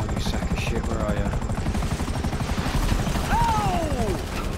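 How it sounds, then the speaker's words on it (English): Helicopter in Grand Theft Auto V, a steady close rotor chop pulsing throughout, with whooshing and sliding tones passing over it. "Shit! Chopper!"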